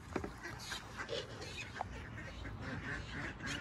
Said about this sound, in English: we'll feed the ducks